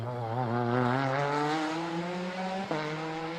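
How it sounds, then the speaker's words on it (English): A race car engine from a video game sound mod revs with a bell-shaped, trumpet-like exhaust tone, a smooth sustained harmonic drone that climbs in pitch, dips briefly and picks up again, heard alone. "bell-shaped exhaust kind of noise from this car all the time"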